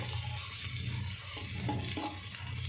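Garlic for an aloo gobhi curry sizzles in a pan under a steady frying hiss, with a few soft stirring scrapes spaced through the moment.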